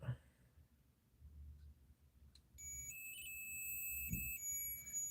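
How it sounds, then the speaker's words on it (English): A small light-up device that blinks red or blue sounds its alarm: a faint, thin electronic tone comes on partway through and holds steady, with a brief pause, over a quiet room. "it does have an alarm sound on it."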